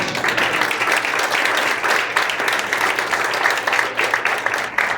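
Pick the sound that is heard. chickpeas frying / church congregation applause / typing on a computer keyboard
church congregation applause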